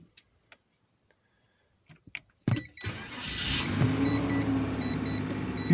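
A 1990 Mazda MPV 4WD with an automatic transmission is started by a wired-in push button: a few faint clicks, then the starter cranks and the engine catches and settles into a steady, close idle.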